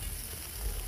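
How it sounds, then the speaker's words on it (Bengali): Okra frying in oil with salt, a faint, steady hiss of sizzling close by, brief and without voices. "ঢেঁড়সটা ভেজে নিচ্ছি বন্ধুরা"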